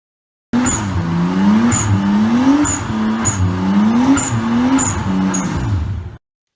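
A 1995 Nissan R33 Skyline engine revs hard, its pitch climbing in repeated rising sweeps as if pulling through gears, loud and close, with faint high squeals over the top.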